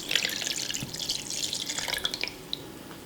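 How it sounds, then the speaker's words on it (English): Lemon juice poured into a food processor bowl for homemade hummus, a short close trickling, splashing stream of liquid. "I'm gonna put my 2/3 cup of lemon juice in there."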